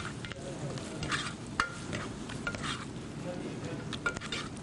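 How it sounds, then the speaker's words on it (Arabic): Onions and garlic are stirred in a frying pan on a stove, making a soft, low sizzle with repeated light scraping and clinking of a utensil against the pan. "نقلب البصل بتاعنا"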